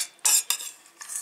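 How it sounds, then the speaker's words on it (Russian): A spoon stirs porridge in a dish, giving a few close, sharp clinks and scrapes of metal against the bowl in short bursts. "Потом я все это перемешаю."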